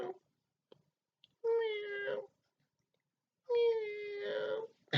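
A cat, heard during a children's church session, gives two long, drawn-out meows with a clear pause between them. Each call is loud and near, and there is no talking over it.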